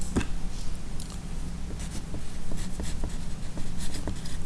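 Marker or chalk strokes tap and scrape across a classroom board as words are written, a string of short, close scratches and taps at an uneven rhythm over a low hum.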